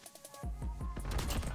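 Rapid gunfire from a Call of Duty: Modern Warfare match, a dense run of loud, close shots starting after a brief lull and continuing in a quick, rhythmic burst.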